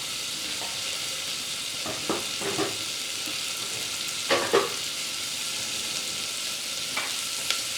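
Chopped vegetables for a vegetable kurma sautéing in a pan over medium flame, a faint steady sizzle with a few scattered scrapes of a spoon.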